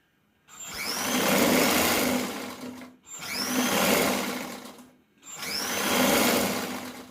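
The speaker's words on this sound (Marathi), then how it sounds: "आता चांगल्यावर चांगली बाजू ठेवायची आणि बाजूने पाव इंचावर शिलाई मारून घ्यायची" A sewing machine stitches a blouse seam a quarter inch from the edge, running in three steady bursts of about two seconds each, separated by short pauses, with a constant motor hum close to the microphone.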